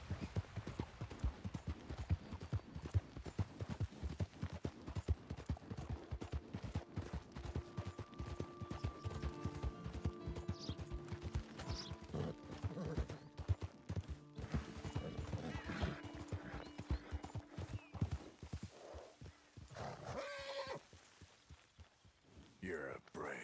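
In a video game, a horse trots along with steady, close clip-clop hoofbeats. Game music and character voices play under them, and someone comments over the top.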